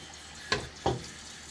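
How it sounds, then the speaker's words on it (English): Water poured in two short splashes into a shaving bowl for dipping a brush, each burst brief and close against a quiet background. "I'm going to put some dip water in my bowl"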